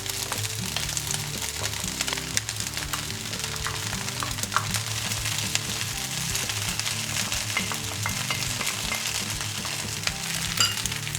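Vegan fried rice with tofu stir-fries in a pan with a loud, steady sizzle and dense crackle, plus faint scrapes of stirring throughout and no voices.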